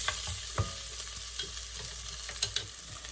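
Potatoes frying and browning in a pan, a steady close sizzle with small crackles and the scrape of stirring.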